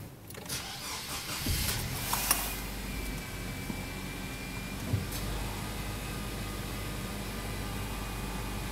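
A 2010 Nissan Sentra 2.0 S with a manual gearbox cranks and fires up, a brief starter whir giving way to a steady idle that settles into a constant hum, close and alone with no voices.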